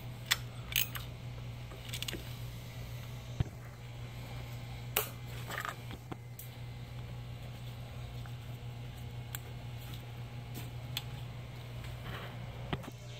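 A 1/4 inch ratchet tightens coil pack bolts on a 2015 Kia Soul, giving scattered quiet clicks and ticks over a steady low hum, close but faint, with no speech.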